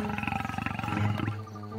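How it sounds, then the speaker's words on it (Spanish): A cartoon tiger lets out a loud, close, rumbling roar that pulses rapidly at first, then swells into a sustained growl before trailing off. "¡Ah! ¡Un tigre!"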